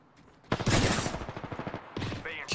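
Rapid gunfire rattles in a squad shooter video game, a loud opening volley followed by a steady, pulsing burst of automatic shots, then a brief pause and another short salvo with a rising tone.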